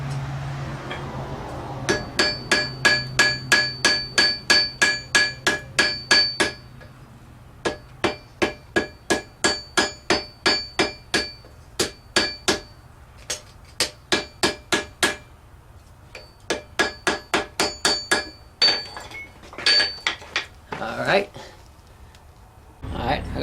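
A hammer pounds steel while a block plane is being made, ringing metallic blows struck in fast, steady runs of a dozen or more, loud and close, with brief pauses between series.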